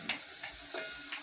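Onions sizzling in hot oil in a pan, a steady close hiss with a few soft stirring scrapes, no talk.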